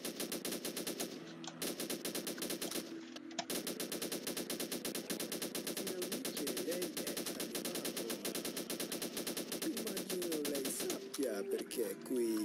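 In the video game Lambda Project 2, enemies fire a machine gun in a steady rapid stream of shots. It runs almost without a break, with brief pauses, beneath in-game sounds.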